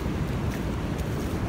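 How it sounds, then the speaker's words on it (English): Hefty waves from an incoming tide wash and churn close by, a continuous broadband rush with wind buffeting the microphone throughout the short stretch. "all the ripples and it's making some good hefty waves"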